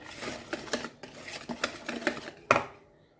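Madeleine batter being whisked in a bowl, with a string of light scraping clinks from the utensil against the bowl's sides and a sharper knock near the end, close by with no voices.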